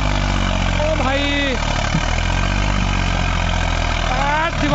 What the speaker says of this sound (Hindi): अब दूसरा ट्रैक्टर स्टार्ट हो गया